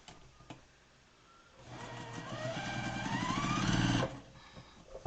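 Sewing machine stitching quilt blocks together, a quiet pause and then a steady mechanical whir that rises in speed for about two and a half seconds before stopping abruptly, close by and without talk.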